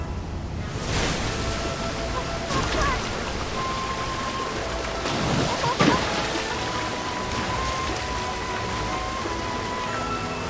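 A waterfall in the Zelda video game roars as a steady, dense rush of water that fills the whole scene, with faint game tones and brief clicks scattered through it.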